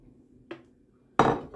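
A small spatula scrapes grated lemon zest into a glass: a faint short clink, then a louder metallic scrape and tap against the glass, quiet and close with no talk.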